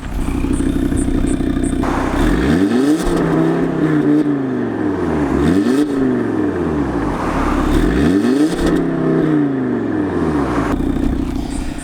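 Audi RS3 with a 2.5-litre five-cylinder engine revving hard, loud and close, with repeated rising and falling sweeps as the engine climbs through the revs and drops back, no talking over it.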